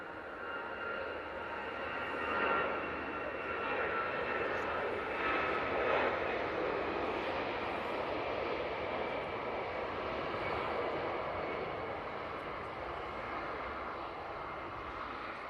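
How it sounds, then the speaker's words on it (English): An EasyJet airliner rolls for takeoff at Manchester Airport as a broad, steady jet roar at a distance. The roar swells slightly early on and then holds evenly at a moderate level. "Easyjet on the roll."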